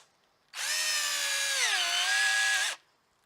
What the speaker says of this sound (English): I'm going to go ahead and put the screws in on the other side.